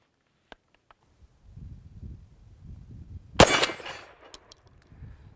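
A single shotgun blast fires at a target on an outdoor range during a patterning demonstration, one sharp crack with a short ringing tail, preceded by faint handling clicks and low rumble.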